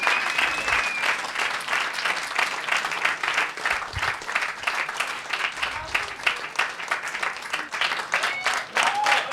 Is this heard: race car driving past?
no